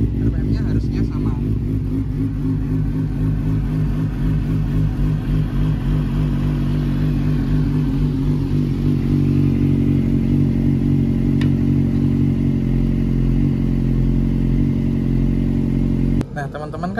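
A Yamaha R6 sport motorcycle engine with a quickshifter fitted runs loud and close in a steady, throaty drone, holding nearly constant revs with slight swells before cutting off abruptly near the end.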